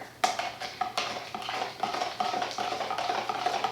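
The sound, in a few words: stirring walnut shell and essential oils mixture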